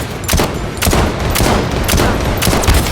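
An SVD sniper rifle fires rapidly in the shooter game Blood Strike, with several loud, sharp shots cracking in quick succession close up amid ongoing battle noise.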